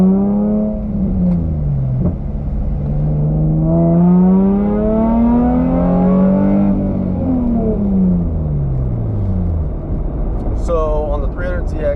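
A Nissan 300ZX engine runs close by for the whole stretch, its pitch rising and falling smoothly through several slow revs before settling near the end.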